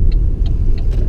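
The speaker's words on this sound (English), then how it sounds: "And that car nearly hit me." A car passing close by someone on foot gives a loud, steady low engine rumble with faint ticking on top, all within about a second.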